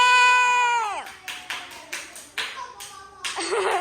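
Young primary-school children clap for their classmates in a classroom science lesson, a few short bursts of scattered clapping following a teacher's voice, with more talk at the end.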